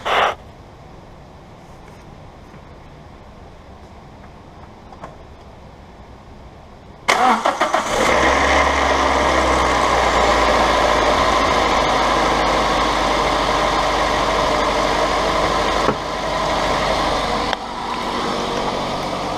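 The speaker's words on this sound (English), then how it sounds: "the first start probably will be a little bit noisy because the oil has to come to the head" A Toyota Avensis/Corolla 1.6 3ZZ-FE petrol engine with misfire faults cranks briefly and catches, then settles into a steady, close idle that dips slightly in level near the end, with only faint background before the start.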